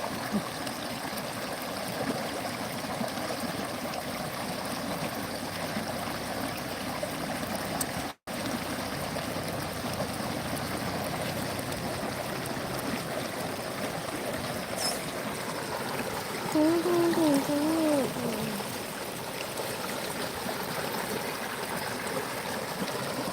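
Overflowing lake water running steadily down a stream, a continuous close babble and trickle throughout, with a brief dropout partway and a faint warbling bird or whistle later on.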